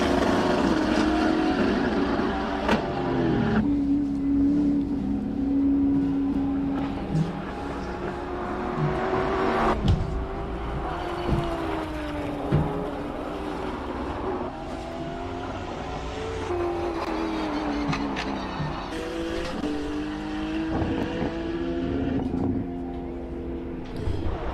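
Race cars climbing the hill at the Simola Hillclimb, a loud, continuous engine roar with rising and falling revs and gear changes, mixed with crowd ambience throughout.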